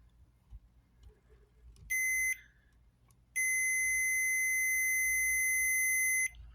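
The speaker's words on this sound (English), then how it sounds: "the multimeter starts beeping" Two clear electronic beeps from a multimeter testing continuity on a CB antenna whip, a short one followed by a longer steady tone lasting about three seconds, against a quiet background.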